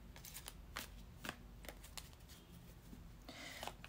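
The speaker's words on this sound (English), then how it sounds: "and shuffle with intention again." Oracle cards being shuffled up close, a run of soft riffling swishes and light clicks repeating in quick bursts, with no voices.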